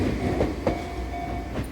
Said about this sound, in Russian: Едем сейчас опять на поезд